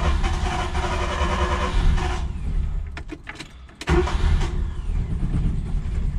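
A small carburetor engine, cold with the choke closed, roars steadily, drops to a quieter stretch broken by a few sharp clicks, then fires up again and keeps running roughly, close and loud.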